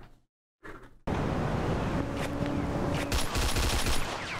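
Gunfire from the video game Mafia II Definitive Edition: after a brief quiet start, a loud burst of rapid shots rattles on over engine and street noise, with sharp cracks near the end.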